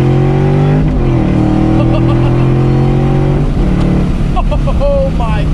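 Supercharged Ford Mustang GT500 accelerating hard, its engine note climbing through gear changes with a rising supercharger whine layered over loud exhaust roar, while a person talks and exclaims throughout.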